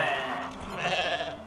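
A goat bleats in the video game Goat Simulator, a single drawn-out nasal bleat lasting about a second and a half, fairly loud and close, with no talking over it.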